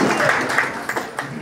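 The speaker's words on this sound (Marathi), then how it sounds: "जोरात टाळ्या वाजून आपण सरांचं स्वागत करू।" Audience applause welcoming a sitar player at a concert, with a tabla accompanist to follow; continuous clapping that is fairly loud, with a few sharper claps standing out as it carries on without any talk.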